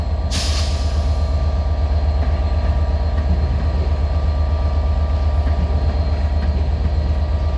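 A Class 465 electric train departs London Victoria with a steady, loud, close electric hum and rumble, opening with a sharp hiss of air.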